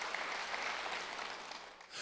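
Church congregation at a Wednesday worship service giving a sustained round of applause, dense continuous clapping from many people that carries on evenly before easing slightly near the end.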